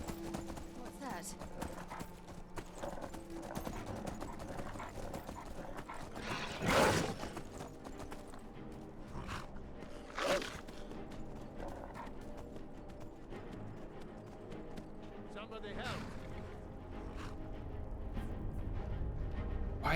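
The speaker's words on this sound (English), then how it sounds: "Why is that horse charging off?" In the video game Skyrim, a horse's hooves pound in a running gallop, a steady rhythmic clatter beneath talking, broken by a couple of louder thuds.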